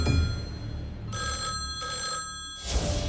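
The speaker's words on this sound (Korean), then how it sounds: "그런데 이때 주목할 만한 전화가 걸려옵니다." A telephone bell rings in repeated bursts, three clear electronic rings in quick succession, fairly loud and close, with a low rumble underneath and no talking.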